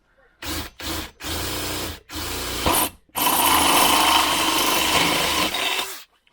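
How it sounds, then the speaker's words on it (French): A drill bores through a metal tube, starting with several short loud bursts separated by pauses, then a long sustained grinding whine up close until it stops. "c'est plus facile à percer que l'inox"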